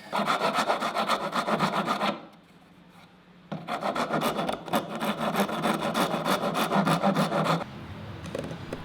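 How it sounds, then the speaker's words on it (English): Wooden crib legs being notched out for a through mortise and tenon, heard as loud, close rhythmic rasping strokes in two long bursts separated by a brief pause, with no talking. "here I'm notching out material in the legs so that I can put the rail through"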